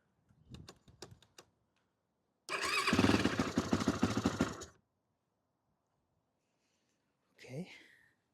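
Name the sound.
Yamaha YFZ450 ATV engine starting and running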